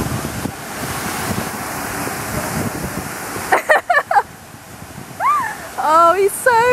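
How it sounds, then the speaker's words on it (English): Heavy spray from a water fountain hisses steadily as a person runs through it, a broad rushing wash that breaks off into short splashes, with excited voices and laughter rising near the end. "he's going to run through the fountain"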